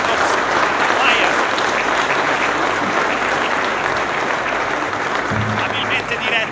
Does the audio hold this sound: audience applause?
yes